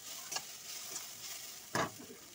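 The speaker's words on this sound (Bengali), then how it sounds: "এখন ডালটাকে দিয়ে 5 মিনিটের মতো এইভাবে নাড়াচাড়া করে নিতে হবে" Dal being stirred and fried with spices and tomato, a quiet sizzle with two brief scraping stirs, the second louder.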